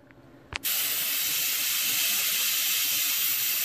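An Instant Pot Duo Plus pressure cooker venting steam after cooking French garlic chicken: a click, then a loud, steady, broadband hiss that comes in abruptly and holds strong to the end.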